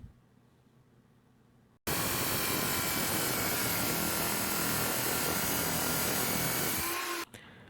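A power tool cuts the threaded end off a metal bar with a loud, steady grinding whine lasting over five seconds, starting and stopping abruptly against a quiet background.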